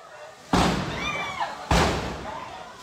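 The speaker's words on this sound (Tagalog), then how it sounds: "Sunod-sunod na pagsabog ang maririnig mula sa nasusunog na establishmento." Two heavy explosions burst from a burning LPG shop, each a sudden loud boom that fades slowly, about a second apart.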